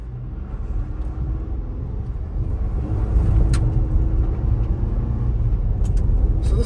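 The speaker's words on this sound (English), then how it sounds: "So this is your average gravel road with, a few bumps kind of along the way." A Ford Ranger pickup rolls along a bumpy gravel road, a steady low rumble of engine and tires heard from inside the cab, growing slightly louder midway with faint rattles and clicks.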